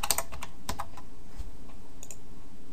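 Someone typing JavaScript code on a computer keyboard: a short burst of crisp, close key clicks at the start, then sparse taps and a brief flurry near the end, with no speech.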